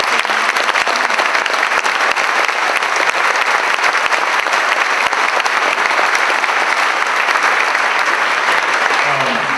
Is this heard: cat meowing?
no